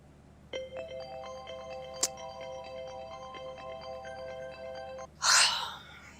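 A phone ringtone plays a melodic electronic tune for several seconds at steady volume, then stops and is followed by a short breathy gasp.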